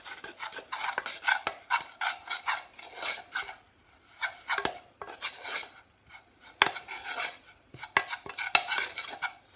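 Flour is stirred into a cauliflower cheese sauce in a saucepan, giving rhythmic scraping and rubbing strokes of a utensil against the pan, close and fairly quiet, with short pauses between bursts.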